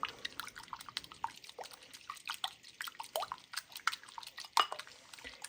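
Egg beaten with a splash of water in a bowl for an egg wash, giving quick wet clicks and soft splashy taps in an uneven, steady rhythm, close and fairly quiet.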